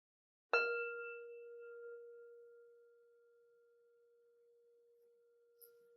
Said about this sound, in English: we'll close this practice with the sound of the bell.